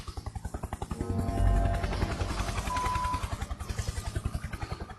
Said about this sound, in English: As helicopters chopper above,